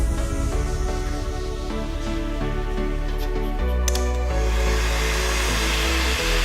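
A loud, steady 600-degree hot air gun whirring with a constant motor hum and rushing air, running continuously throughout.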